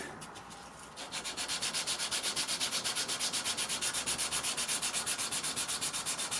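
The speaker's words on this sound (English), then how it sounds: "I've got to finish off rubbing this first of all to 400 grit." A block is rubbed back and forth by hand with 400-grit abrasive paper in a crosshatch pattern, making quick, even rasping strokes about five per second that begin after a brief pause and continue close up without talk.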